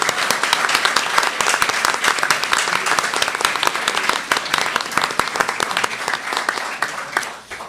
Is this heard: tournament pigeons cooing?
no